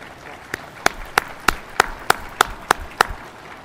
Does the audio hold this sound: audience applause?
yes